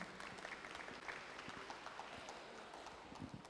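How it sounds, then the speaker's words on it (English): Applause from an audience at an academic general lecture event, a soft, distant, continuous patter of many hands clapping with no voices. "please give a round of applause as we welcome her to the stage"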